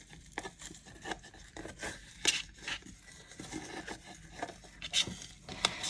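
Crochet hook working jute and rope into a square basket, giving soft, irregular rubbing and rasping fiber scrapes with occasional sharper ticks, close and fairly quiet, with no talking.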